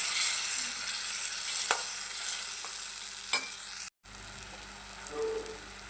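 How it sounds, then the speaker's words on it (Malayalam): Curry leaf pickle with a splash of vinegar stirred in a hot pan, a steady hiss of frying under a few soft scrapes of the spoon, close and moderate in level, with no voices. "എന്നിട്ട് ഇളക്കി കൊടുക്കുക."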